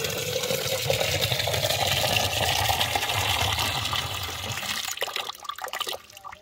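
Drinking water is poured or run into a container in a home kitchen, a loud steady close gush of liquid for several seconds that tapers to faint trickles and drips at the end, with no talking.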